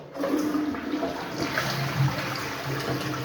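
A one-piece water-saving siphon jet toilet flushes with a steady rushing of water, close and moderately loud, with gurgling swirls and no speech over it.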